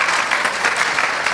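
A congregation's applause rolls on in a steady, dense patter of many hands, close and moderately loud, with faint crowd murmur underneath.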